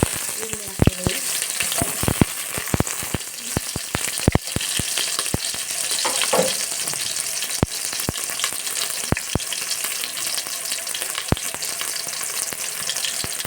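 Mixed vegetables frying in hot oil for a sambar, a steady broadband sizzle throughout with sharp clicks and scrapes of a spoon stirring the pan, close and fairly loud with no voices.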